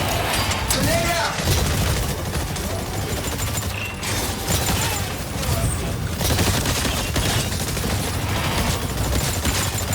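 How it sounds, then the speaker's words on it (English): In the Exoprimal video game, a dense, loud barrage of gunfire runs throughout with a grenade blast mixed in, under clipped game voice lines and constant action noise. "Grenade out!"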